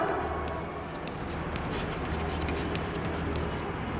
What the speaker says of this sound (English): You have to write it in block letters.